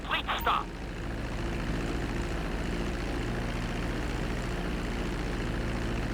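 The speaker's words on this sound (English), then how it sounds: "Now let's get the plane off the runway. Taxi over to the marked area and come to a complete stop." An airplane in GTA V taxis along a runway, its engine a steady, even drone that holds from start to finish after a few brief clicks at the opening.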